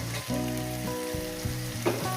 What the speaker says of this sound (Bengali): কচু লটিগুলো দিয়ে আমি আরও তিন চার মিনিট এটাকে ভেজে নেব